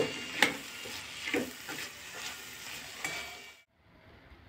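Mixed vegetables with turmeric, masala and salt sautéed in a pan for a traditional Bhogi dish, with a soft sizzle and a few scraping stirs, close and fairly quiet, cutting off near the end.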